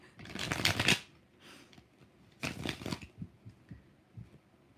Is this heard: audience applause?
no